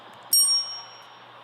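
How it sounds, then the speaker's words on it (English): A single bright ding of a small bell rings once on a talk show set, sharp strike followed by a short ringing decay over quiet room tone. "I'll have you ring the bell when he says."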